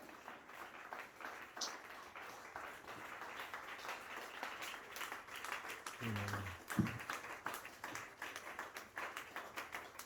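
A church congregation breaks into applause, a steady patter of many hands clapping at moderate distance, with a brief low voice cutting in partway through.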